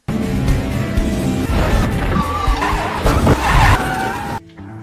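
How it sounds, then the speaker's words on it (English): An F1 race car in a movie scene skids with loud tire squeal and engine noise, then hits something in a crash, and the sound cuts off abruptly near the end. "ended up wrecking a car worth hundreds of millions of dollars"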